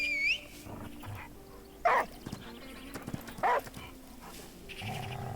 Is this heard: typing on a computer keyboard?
no